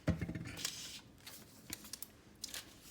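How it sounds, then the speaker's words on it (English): Scissors snip the tip of a plastic piping bag filled with royal icing, giving one sharp close cut followed by faint rustling of the bag. "So I like to hold it like this and then snip."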